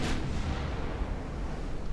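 Naval guns fire on heavy cruisers during a German campaign battle in UA: Dreadnoughts, one heavy distant boom followed by a long low rumbling roll with no talk.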